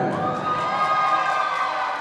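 Students at a college English drama competition closing ceremony cheer for the TLM Department, a loud, continuous wall of shouting and whooping voices, with some clapping, that stays steady throughout.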